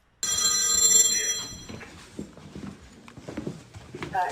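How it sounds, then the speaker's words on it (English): Telephone bell ringing loudly and steadily in bursts for about a second and a half, then fading into scattered quieter clatter and background noise. "so that we can hear his phone ring"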